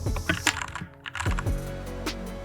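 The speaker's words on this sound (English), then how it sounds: "I can select and just type whatever I want" Quick bursts of keystrokes clatter on a computer keyboard, close and fairly quiet, with a brief pause in the middle.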